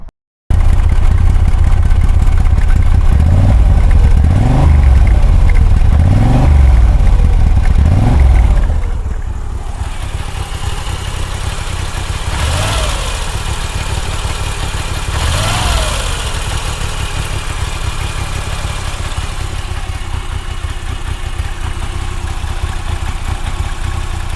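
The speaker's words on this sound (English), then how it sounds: "You don't just have the engine sound, you also have a transmission sound." A Moto Guzzi V85TT motorcycle engine idles and revs close by, a few throaty blips in the first seconds before settling into a steady low rumble with occasional rising revs, with transmission sound.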